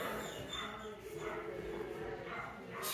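Dogs bark and yip in a veterinary clinic, the barking a little distant, mixed with room noise and people talking.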